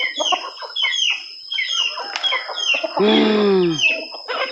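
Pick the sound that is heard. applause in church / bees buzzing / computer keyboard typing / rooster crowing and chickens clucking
rooster crowing and chickens clucking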